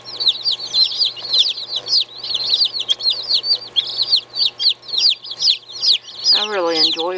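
Homestead chickens and chicks at a backyard chicken house chirp and cluck in a dense, continuous chatter nearby. A lower, drawn-out hen call rises near the end.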